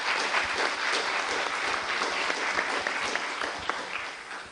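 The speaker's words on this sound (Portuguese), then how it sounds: "a quem eu pediria para vocês uma salva de palmas" Warm, sustained clapping from a seminar audience at a heritage week panel, many hands beating together in a dense, even patter that continues for several seconds.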